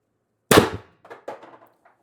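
A single sharp, loud report from an air gun firing an 8.4 g steel ball bearing, ringing briefly and followed by a few fainter clicks and rattles as it fades.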